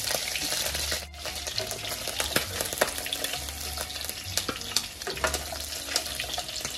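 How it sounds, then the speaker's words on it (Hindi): Pork mix frying and being stirred in a pan, Tai Khampti style, with a steady close sizzle broken by repeated scraping stir strokes and clinks of the utensil against the pan. "हमें इस मिक्स को कंटिन्यू हिलाते रहना है जब तक कि ये गोल्डन ब्राउन ना हो जाए"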